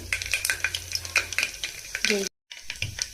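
Mustard seeds and cumin fry in hot oil, giving a close, steady crackle and sizzle broken by sharp spattering pops and one brief gap.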